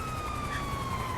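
An ambulance siren holds a steady, loud, piercing tone without breaks.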